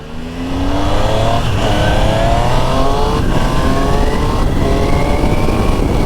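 A 2025 Triumph Tiger Sport 800 motorcycle with a quick shifter accelerates hard and loud from close by, its engine note climbing in a run of rising pitch sweeps broken by quick gear changes, with wind roar underneath and no talking.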